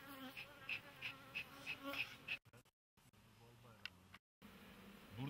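Honey bees buzz around a traditional hive in an apiary, a close, insistent buzzing that comes and goes in pulses, broken by abrupt gaps, with faint voices in the background.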